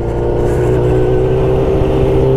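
A Suzuki GSX-1000 K2 motorcycle engine runs loud and close, a steady rumbling roar with a sustained mid-range drone and no talking over it.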